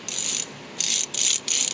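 A Ford 4R100 transmission's diode sprag clutch is turned by hand, giving four short bursts of fine, rapid ratchet-like clicking close up, separated by brief pauses.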